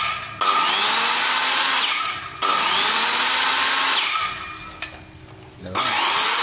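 A used Japanese cordless drill whirs in three close, loud bursts, each a high spinning whine lasting one to two seconds, with brief pauses and a faint click between runs.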